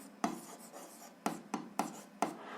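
Pen or chalk writing out algebra work, a soft scratching rub broken by four or five sharper taps and strokes, faint and close with no talk.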